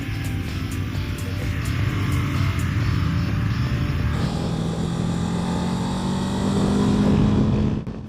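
Voge DS 525X motorcycle engine drones steadily while riding, a loud low hum with wind roar, rising in pitch as the bike accelerates toward the end.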